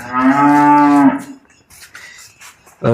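A Jersey cow on a farm lets out one loud, close, drawn-out moo lasting about a second, followed by quieter rustling and shuffling sounds.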